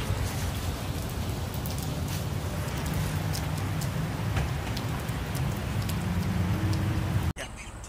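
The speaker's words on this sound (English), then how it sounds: "you get caught in the rain because the rain comes out of nowhere." Steady rain falls hard and continuously, a dense hiss of drops close by that cuts off abruptly near the end.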